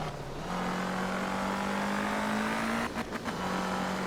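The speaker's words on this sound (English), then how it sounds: "There's definitely quite a high-pitched whine going on with it." A prototype rally car in the racing game Art of Rally runs with a loud, steady engine drone and a sustained high-pitched whine that rises slightly, then briefly breaks as if shifting before settling again.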